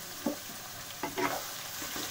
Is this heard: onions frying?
yes